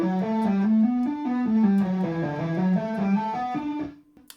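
An electric guitar plays a fast shred lick of rapid hammer-ons and tapped notes, with a bright, slightly driven tone, rising and falling for about four seconds before cutting off abruptly.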